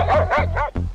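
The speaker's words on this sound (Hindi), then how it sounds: "मुझे देखकर तूने भी भौंकना शुरू कर दिया है?" A dog barks and yips repeatedly in a rapid, close, loud series of bow-wow barks, in a Hindi animated Gopal Bhar cartoon scene.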